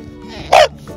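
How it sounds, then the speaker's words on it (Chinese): A small dog at a beach campsite gives a single short, sharp bark, loud and close, with quiet background around it. "小狗就在这儿，哎。"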